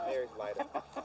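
A farm chicken with a previously broken foot clucking close by, a quick series of short, choppy clucks in uneven rhythm, fairly clear against a quiet background.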